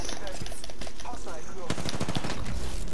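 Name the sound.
gunfire in a video game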